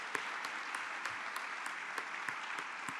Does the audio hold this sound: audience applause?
yes